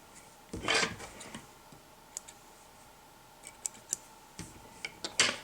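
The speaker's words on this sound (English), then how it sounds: "We can get in here with our scissors to kind of trim out some of those extra fibers." Quiet, sparse snips and clicks of small scissors at close range, with one louder rustle near the start and soft ticks scattered throughout.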